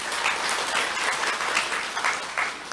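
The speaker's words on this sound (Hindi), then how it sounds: "ताली बजाओ अपने लिए।" An audience at a spiritual gathering in a hall claps together in a dense, continuous burst, loud and even for a few seconds without talk.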